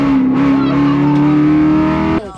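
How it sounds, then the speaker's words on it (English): A BMW E92 M3 race car pulls away hard after a dropped clutch, its engine loud and close, holding a steady high drone for about two seconds before cutting off abruptly. "So Sarah, she dropped the clutch, mm-hmm. and that's why it took off"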